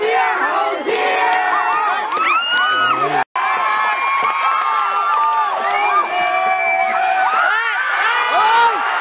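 A large football crowd roars and cheers throughout a Thai FA Cup match between Singha Chiang Rai and Sukhothai, a dense, loud wash of shouting voices with whoops and rising swells and a brief drop near the middle.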